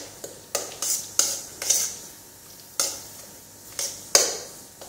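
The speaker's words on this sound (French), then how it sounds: "Donc on va mélanger le tout." Mushrooms and crème fraîche are stirred by hand, making a series of quick, close scraping strokes at an uneven rhythm, with brief pauses between them.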